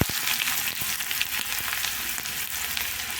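Sliced onion sizzles in a ladleful of hot oil with a stick of cinnamon and a cardamom pod, a steady loud frying crackle with a few sharp pops and stirring clicks, close and continuous.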